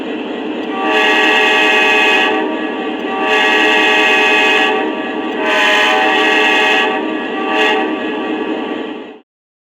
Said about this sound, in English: watch how the horn quills itself on the legacy F40 just as the TMCC GP30 does automatically right out of the factory